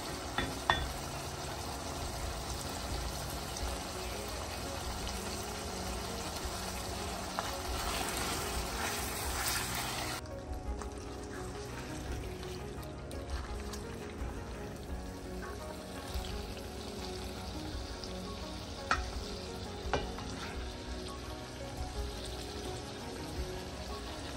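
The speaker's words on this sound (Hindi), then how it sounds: "अच्छी तरह मैंने भून लिया है इसे" Mutton and potatoes sizzle steadily in a hot pan while a utensil scrapes and stirs through them, with occasional clinks against the pan.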